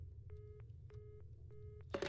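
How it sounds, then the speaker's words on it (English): Telephone tone in the video game Infra: three evenly spaced beeping tones, each lasting about a third of a second, quiet against a low hum, followed by a brief burst of noise at the end. "All I can hear is the dial tone"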